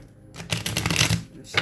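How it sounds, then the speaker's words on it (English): Cards being shuffled in quick riffling bursts, a soft rustle that swells into a dense flurry of flicks, close by, then eases off. "It's too many, so let me shuffle again"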